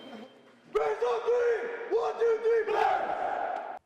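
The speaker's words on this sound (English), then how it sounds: "Take us out with the cheer." Menlo Atherton Bears high school football team shouting a cheer together, loud group yells in several bursts close to the microphone.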